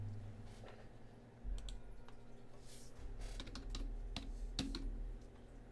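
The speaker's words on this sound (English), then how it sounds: "Oh, this fucking keyboard." Typing on a computer keyboard, rapid irregular clicks close by, alone with a faint background hum.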